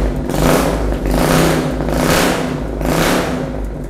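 A Suzuki Thunder 250 twin-port chopper motorcycle engine revs repeatedly, three rising throttle blips over a deep, bassy idle, heard close with no talking.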